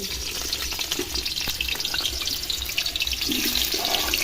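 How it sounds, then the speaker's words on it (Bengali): Potatoes fry in hot white oil in a wok, giving a loud, continuous crackling sizzle with a few scraping stirs and clinks over several seconds, and no one speaking. "আমি কিন্তু সাদা তেলটা দিয়ে আলুটা ভেজে নেবো"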